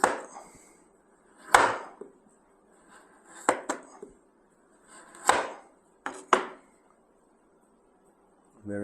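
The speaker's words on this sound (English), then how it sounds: "Easy to slice with sharp knife." Cured meat being sliced with a sharp knife on a board, a handful of separate close strokes, each a quick swish ending in a soft knock, spaced by quiet pauses.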